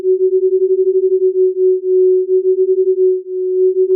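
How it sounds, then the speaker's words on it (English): Two detuned sine wave oscillators make a wobbly synth bass: one pure steady tone that pulses and beats in volume, throbbing fast, then slower, then fast again, loud and alone. "put on 2 sine waves here, and then just detune one of these sine waves."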